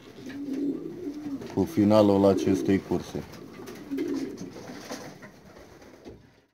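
Racing pigeons gathering after a race coo in soft repeated rolling calls close by, while someone talks over and between them.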